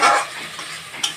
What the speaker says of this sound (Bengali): আমি 2-3 মিনিট পর এটা একটু নেড়ে নিচ্ছি।